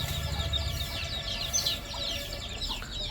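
Chickens and young chicks cluck and peep in a continuous busy chatter, with a low background rumble beneath the fowl sounds.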